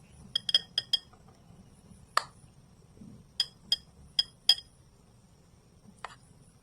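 A bowl is set down and fitted in place among cooking vessels, giving a series of sharp, bright clinks in irregular clusters, some quick pairs and a few isolated taps, close and clear over a quiet background with no talking.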